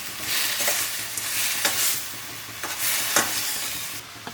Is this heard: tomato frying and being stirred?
yes